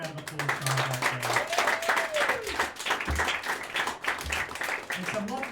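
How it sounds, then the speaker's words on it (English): Comedy club audience applauding the comedians at The Junk Bar, a steady wash of clapping with cheers and voices mixed in, fairly close and continuous throughout. "Keep that round of applause going"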